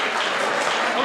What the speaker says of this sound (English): Everybody, if you're not eating, can you clap?